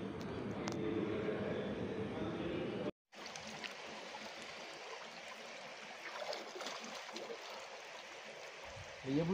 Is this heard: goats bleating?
no